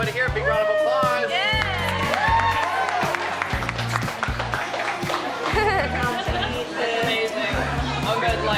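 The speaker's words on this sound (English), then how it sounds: "Give everybody here a big round of applause." A crowd applauds and cheers on a cooking show, with steady clapping, occasional shouts and busy chatter running underneath, all sustained at a lively level.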